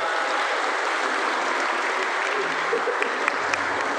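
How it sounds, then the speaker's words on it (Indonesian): Wedding guests at a church marriage sacrament clap for the newlyweds, an even, sustained crowd applause holding at moderate loudness, with faint voices beneath near the end. "Kita akan tepuk tangan untuk kedua mempelai."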